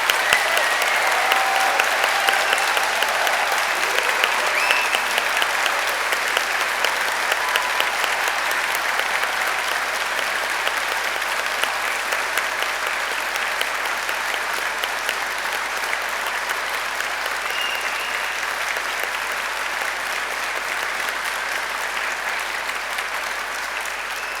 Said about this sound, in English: let's start today's celebration with a huge round of applause for our amazing graduates.